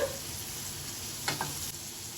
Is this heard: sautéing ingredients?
yes